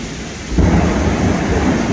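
Heavy rain pours steadily outdoors during a thunderstorm, with a deep rumble of thunder swelling partway through and the dense downpour continuing loudly.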